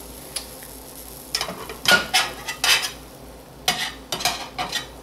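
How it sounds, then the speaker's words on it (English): Pancake being flipped in a cast iron pan: soft sizzling continues underneath while a spatula scrapes and clinks against the metal in several short, uneven bursts, close by. "let's see if this flip is any better"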